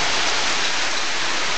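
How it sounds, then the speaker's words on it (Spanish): Heavy rain with hail falling during a hailstorm, a dense steady hiss of drops striking surfaces, close and continuous. "Ahora parece que solamente está lloviendo."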